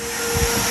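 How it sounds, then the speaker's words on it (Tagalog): A vacuum cleaner runs indoors in a training center, a loud, steady whooshing drone for under a second with no talking. "Nag-vacuum si Acer"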